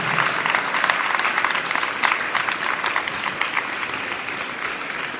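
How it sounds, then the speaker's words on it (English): Families and friends seated in school bleachers clap steadily at an evening ceremony, a continuous, fairly loud wash of many hands with no break, heard without speech over it. "I want you to give everyone who's in the bleachers a huge round of applause"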